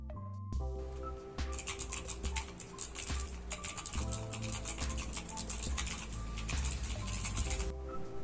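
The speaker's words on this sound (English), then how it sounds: "As you can listen, the keys are very tactile and has a very satisfying click sound." Keys on a Cosmic Byte GK14 Sirius mechanical keyboard click rapidly and continuously, crisp and close, with a steady background hum and no speech.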